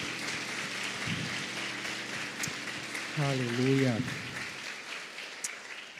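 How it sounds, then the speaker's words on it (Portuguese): A church congregation applauds together, a steady wash of clapping under a voice that calls out an exclamation of praise. "Você pode aplaudir Jesus."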